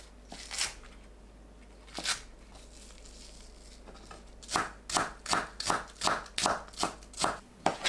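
A knife slicing scallions into 5 cm strips on a cutting board, starting with a few separate crisp cuts and then a quick steady run of sharp rhythmic chops, close and clear with no voices.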